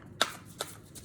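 Tarot cards are shuffled in quick crisp riffles, two or three short papery snaps close by with no talking.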